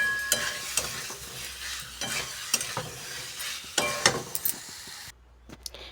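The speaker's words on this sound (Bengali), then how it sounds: "এবারে ভালো করে আবার কষতে থাকবো, নাড়ে চাড়ে ভালো করে কষতে হবে" Potatoes for aloo dum being stirred and fried in a pan, with a spoon scraping and clinking over a continuous sizzle, close and moderately loud, with no talking.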